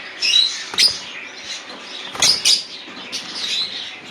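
Small pet birds such as lovebirds, cockatiels and budgies at a bird sale chirp in sharp, repeated bursts, close and fairly loud, with faint rustling between calls.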